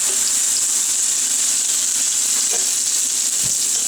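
Thin Swedish pancake batter sizzles steadily in a hot frying pan, a continuous bright hiss with faint crackles and a soft knock near the end, no voices.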